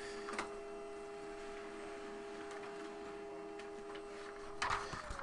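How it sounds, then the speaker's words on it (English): A paper-fed printer runs in a room, a steady mechanical whir with a faint tone held throughout, lightly ticking, with a louder clatter near the end as the sheet moves through. "gotta feed the printer. Hungry for more paper."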